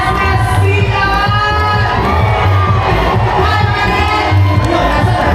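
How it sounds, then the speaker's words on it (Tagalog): Wedding guests at a church celebration clapping and shouting loudly together, a dense continuous roar of cheers, whoops and applause close by. "Malakas sa palakpak, malakas sa sigaw ay makakatanggap ng 500 pesos ngayon na!"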